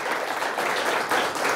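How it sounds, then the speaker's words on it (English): A crowd at a high school competition between Marlette and Manistee claps for the Marlette team, a steady, moderately loud wash of applause with no voices over it. "Nice round of applause for Marlette High School."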